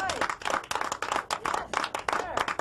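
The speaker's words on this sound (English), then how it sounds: "just give yourselves a round of applause" A room of meeting attendees claps for themselves in a brief, uneven burst of hand claps, moderately close, with voices mixed in among the clapping.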